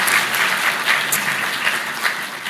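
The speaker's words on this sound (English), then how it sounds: "A round of applause for them as well." Audience at a live student-focused conversation event with a senator applauds steadily, a dense, even wash of clapping throughout with no talk over it.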